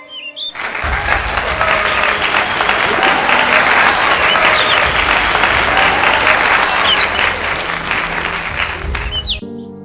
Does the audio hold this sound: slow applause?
yes